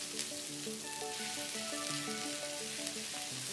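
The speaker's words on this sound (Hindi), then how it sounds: "फिर हम डालेंगे 2 टीस्पून अदरक लहसुन का पेस्ट, थोड़ा सा पकाएंगे।" Ginger garlic paste sizzles and fries in a hot pan with a steady crackle, while faint soft music plays underneath.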